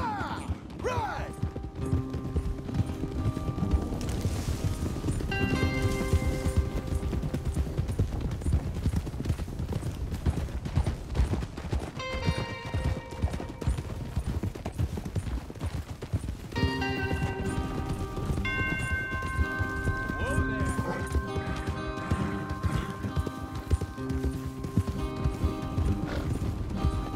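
Hooves clip-clop in a fast, steady gallop throughout in the video game Red Dead Redemption 2, with occasional whinnies, music-like tones and voices talking over the rhythm.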